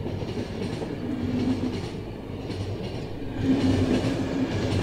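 A train runs steadily on the rails in The Final Station video game, giving a continuous low rumble with faint rhythmic clatter that swells slightly toward the end, and no voices.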